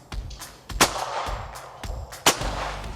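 Shotgun cartridges fire at clay targets, with several loud, close blasts in irregular succession, each a sharp crack followed by a rumbling outdoor tail.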